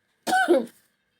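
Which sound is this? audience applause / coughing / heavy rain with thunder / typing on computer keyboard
coughing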